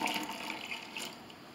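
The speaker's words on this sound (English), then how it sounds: "Now I'm just gonna fill this up with water." Tap water gushes steadily into a bowl holding cut eggplant, a continuous close splashing fill with no talk over it.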